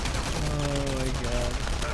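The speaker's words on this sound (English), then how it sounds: "I'm shooting through concrete." Sustained automatic gunfire in the Enemy Front video game, shots punching through concrete in a steady loud stream, with tonal game sounds layered underneath.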